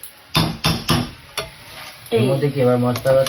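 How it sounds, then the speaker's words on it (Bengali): Chicken being stirred in a pan over a low gas flame: a series of loud spatula scrapes and knocks against the pan with a light sizzle underneath, followed by a brief tonal, voice-like sound. "এইবার গ্যাসের ফ্লেমটা হালকা রেখেই এবার নাড়াচাড়া করতে হবে"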